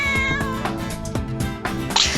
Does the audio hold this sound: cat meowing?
yes